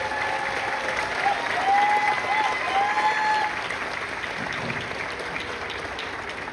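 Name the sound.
audience clapping and applause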